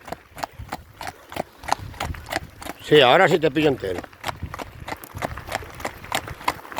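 Horse walking on a ride, steady close clip-clop of hooves in an even rhythm, with a brief loud whinny partway through and people chatting over it in Spanish.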